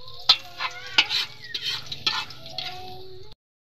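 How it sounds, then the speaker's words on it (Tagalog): Garlic frying in a kawali, heard as a soft sizzle with several sharp clatters of stirring close by, cutting off abruptly near the end. "Bawang una ko nilagay sa kawali. Hintayin lang natin na maging brown yung ating"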